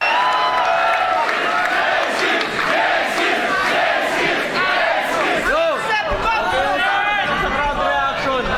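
A crowd at a rap battle reacts loudly, with cheering and shouting swelling in waves over a continuous roar of voices.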